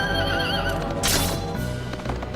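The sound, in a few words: horses neighing in video game Suikoden 3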